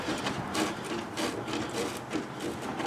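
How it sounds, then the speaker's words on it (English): Sandpaper wrapped around a Sharpie marker rubs back and forth through a drain hole in a flats skiff boat hull, giving a steady, close, gritty scraping in short strokes with no talk. "I'm just running that sandpaper wrapped around that Sharpie through that hole just to clean it up a little bit."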